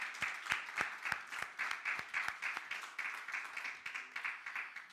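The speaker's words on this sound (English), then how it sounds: "Why don't we give a clap offering for Jesus this morning?" A church congregation gives a clap offering on a Sunday morning, a fairly quiet, steady patter of many hands clapping in a rhythmic, loosely unified beat with a few louder individual claps.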